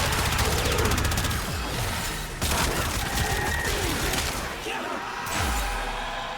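Sustained full-auto fire from a Warframe incarnate weapon pours out in a dense, loud stream of shots, with brief gaps and some speech mixed in.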